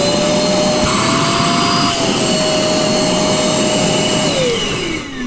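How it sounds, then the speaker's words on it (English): An ESD safe vacuum cleaner runs loud and close while cleaning out a gaming PC, its steady whine shifting slightly in pitch as the nozzle moves, then easing off at the end. "I think it is a good idea to use an ESD safe vacuum."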